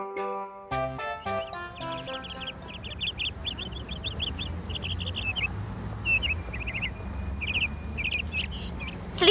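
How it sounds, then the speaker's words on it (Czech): Birds sing in a green city park with rapid repeated high chirps and tweets. A few bright bell-like tinkles sound at the start, and a steady low background rumble runs throughout. "uslyšíte zpěv ptáků"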